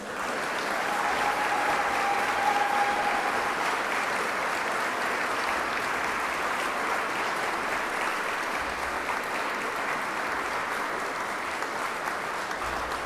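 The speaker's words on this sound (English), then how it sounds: "Huge round of applause." Long, even applause from a large audience at the 2023 Victoria Australian of the Year Awards ceremony, a dense, unbroken roar of clapping that stays loud throughout with little variation.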